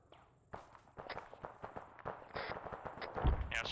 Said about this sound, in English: Yeah, small arms fire coming in now